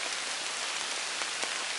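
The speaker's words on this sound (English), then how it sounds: "It's nice to hear the raindrops in the forest." Light rain falls steadily through forest trees, a soft continuous patter of drops on leaves with a few sharper nearby drips, no voices.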